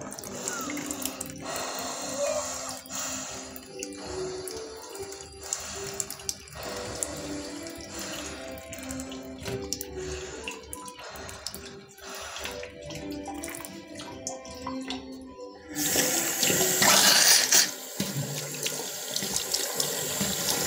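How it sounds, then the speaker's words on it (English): Water runs steadily from a neti pot through the nostrils during jala neti nasal cleansing, a continuous close trickle and splash that swells into a louder gush near the end. "So just have a look how the water will come from the right nostril to left nostril."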